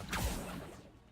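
A summoning spell whooshes in Hogwarts Legacy, one quick swish that sweeps down and fades within a second, fairly close and unaccompanied by talk.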